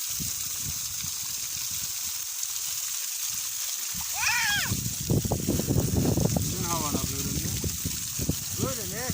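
Groundwater gushes and splashes from a newly drilled well, a steady rushing flow that grows louder midway while several people talk over it.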